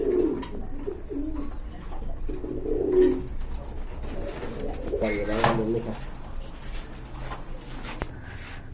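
A pair of light-coloured Mili pigeons coo at a market stall with many pigeon pairs for sale, repeated throaty murmurs close by, while someone talks briefly over them.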